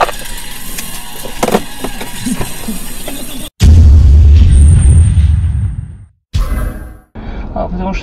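A car crash on the road: road noise and rumbling, then a sudden heavy boom and sustained loud crunching roar that fades out, followed by short bursts of jolting noise.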